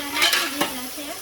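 A spoon stirs dhokla pieces in boiling water in a pot, giving a few quick scraping strokes over a soft bubbling background within a brief moment.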